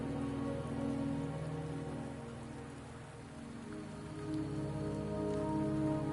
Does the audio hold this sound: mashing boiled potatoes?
no